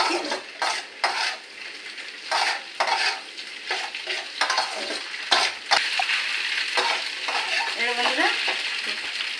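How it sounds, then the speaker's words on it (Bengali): A utensil scrapes and stirs pasta in a frying pan, with repeated short scraping strokes in an uneven rhythm over a soft sizzle, close and fairly clear. "ভালো করে নাড়াচাড়া দিয়ে নিচ্ছি।"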